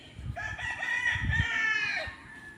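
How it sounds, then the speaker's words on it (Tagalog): A rooster crows a long, drawn-out call close by, with chickens clucking low underneath, among many breeds of chickens. "Lahat ng mga klase ng mga manok ay nandito."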